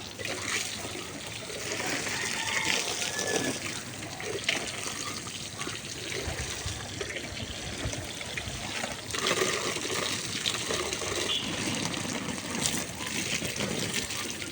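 Water from a pipe pours onto rooftop plants on a hot, sunny day, a fairly faint, continuous gushing and splashing that holds steady throughout.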